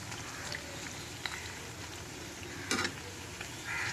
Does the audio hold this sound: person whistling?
no